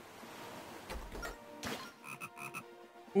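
A golden frog croaks in the Zelda Phantom Hourglass video game: a few short, soft croaks in quick succession, fairly faint with light game sounds around them.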